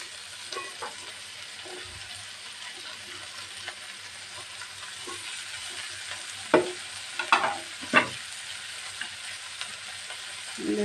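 Shredded cabbage and carrot stir-frying in a pan make a soft, steady sizzle, broken by a few sharp clinks and scrapes from stirring, close but fairly quiet, with no one talking.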